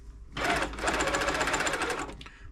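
An Elna Club Computer 500 sewing machine runs a straight stitch after servicing, giving a close, rapid mechanical chatter that starts abruptly, holds steady for about two seconds, then stops.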